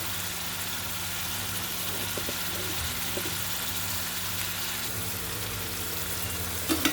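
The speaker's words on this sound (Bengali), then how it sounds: "নেড়ে চেড়ে মশলাগুলো কষিয়ে নেব সুন্দর করে, সাথে টমেটো।" Spices, salt, green chilies and tomatoes stir-frying in a pan for koi fish bhuna curry, a continuous close sizzle with faint stirring scrapes and no voices.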